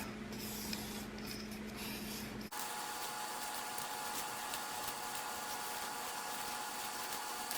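A Silver Flame XXL knife is sharpened on a 1200 grit stone with a continuous gritty rubbing that shifts in tone after a brief pause partway through, steady and close with no talking.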